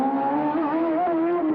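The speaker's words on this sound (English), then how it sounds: "There we hear the whistle of that BMW turbo engine as he comes up here through the chicane" A 1984 Formula 1 car's BMW turbo engine whistles and whines loudly through a street-circuit chicane at the Detroit Grand Prix, a sustained high tone that slides up and down with the revs, no talk over it.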